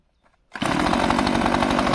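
A Stihl chainsaw starts with a brief pull at first, then its engine catches and roars into a loud, steady, close-up run with no talk.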